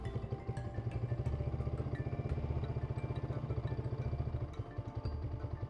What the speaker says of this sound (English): open the choke, pull the clutch and start the engine